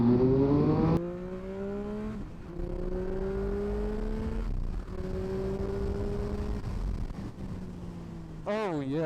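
A 2020 Triumph Speed Triple RS motorcycle pulls away hard from a standstill. The loud engine climbs steadily through several rising gear pulls, each upshift briefly dipping the note, before a final revving flourish.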